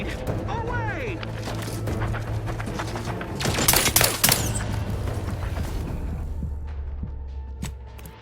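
Grenade blast and bursts of gunfire during combat in the video game The Outer Worlds 2, a sharp loud explosion near the middle surrounded by steady rattling fire, an electronic hum and game ambience throughout.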